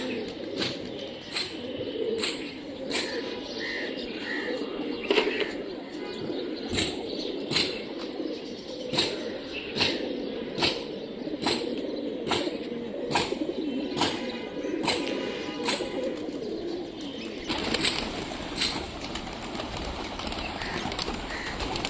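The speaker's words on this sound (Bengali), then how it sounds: "কবুতরটা সুন্দর আছে, ছাতি বিলং কবুতর," Large Giribaz pigeons make repeated sharp wing claps at a steady, regular pace over soft cooing and a low background rumble, with a brief noisier stretch near the end.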